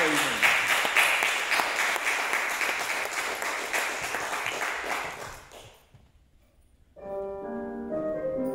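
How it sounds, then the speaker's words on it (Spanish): An audience applauds at a December music recital: loud, dense clapping for about five seconds that fades into near silence before guitar notes begin. "Un fort aplaudiment."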